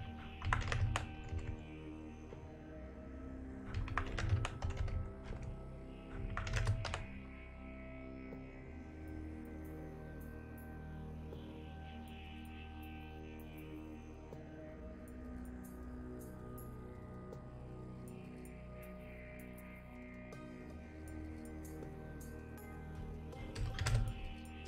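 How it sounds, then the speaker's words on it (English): Fast typing on a computer keyboard comes in several short, clattering bursts of keystrokes over a steady low electrical hum, fairly quiet overall with lulls between flurries. "typing is frantic"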